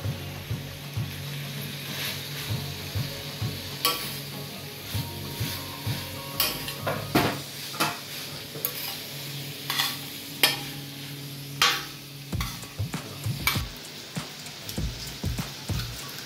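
Fried rice with chicken, prawns, green chilli and cabbage is stir-fried in a pan, a steady sizzle broken by repeated scraping and clanking strokes of a spatula against metal, close and rhythmic without talk.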